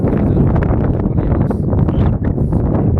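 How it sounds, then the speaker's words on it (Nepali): Gusty wind buffets the microphone in a continuous low roar with uneven bursts, loud and close throughout, in Mustang, Nepal, near Muktinath. "हावा बगिरहेछ पुरै।"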